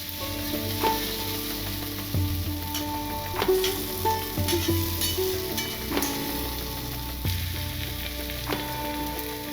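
Masala with tomato paste fries down in a pan for potol chingri, a Bengali pointed gourd and prawn curry, with a steady sizzle and intermittent scraping strokes and knocks of a spatula stirring it.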